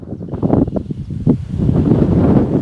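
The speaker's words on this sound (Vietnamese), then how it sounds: "trên cao lộng gió này, các bạn có thể nghe thấy tiếng gió bốn phía luôn" Strong wind buffeting the microphone on top of Bù hill, about 833 meters high, a loud steady gusty rumble with fluctuating bursts and no talk.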